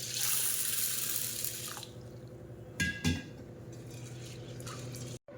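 Lentils being washed in water for puran poli, running tap water and splashing at first, then quieter swishing and a couple of drips and clinks in a basin, close and moderate.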